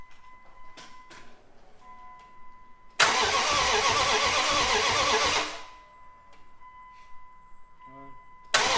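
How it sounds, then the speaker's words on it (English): Engine of a 2nd gen Dodge Ram project mud truck being started for the first time, a loud cranking catch that roars for a couple of seconds and then cuts out, with faint ticking before and after. "let me run that video of us first firing up the"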